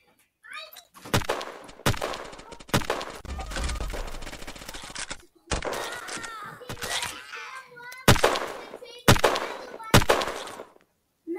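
Gunfire in the video game Shell Shockers comes as repeated sharp bursts of rapid shots and single cracks spread across the stretch, with a player's voice talking between the volleys.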